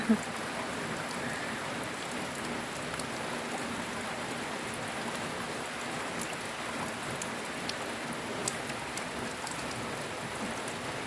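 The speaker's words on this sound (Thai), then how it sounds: "ฝนก็ตกไปนะคะ" Steady rain pattering on surfaces, a continuous even hiss with scattered drip taps throughout, moderately loud and close.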